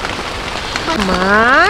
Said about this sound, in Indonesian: ada kondensasi meskipun hujan deras seperti ini